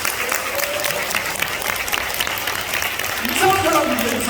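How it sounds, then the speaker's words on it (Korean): Attendees at a business training seminar clap together in a steady, fairly close burst of applause, with a voice rising over the clapping in the final second or so. "박수 한번 쳐주세요"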